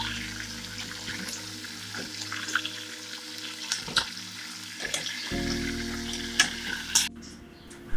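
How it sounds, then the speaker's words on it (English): Bakes, rounds of fried dough, sizzle steadily in a pan of hot oil, with a soft continuous crackle and a few louder spits and pops close by. "I'm now going to start putting in the bakes inside of the pan to fry up and to become really nice and golden"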